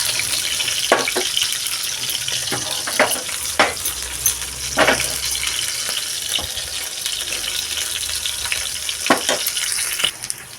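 Food frying in oil until brown while cooking hot rotti in a North Karnataka kitchen: a steady, loud sizzle with occasional stirring scrapes and clinks throughout, no voices.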